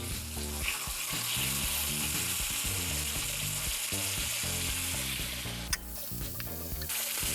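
A steak for steak au poivre sizzles steadily in a hot pan after being flipped, a close, constant frying hiss with a faint background hum and a brief clatter near the end.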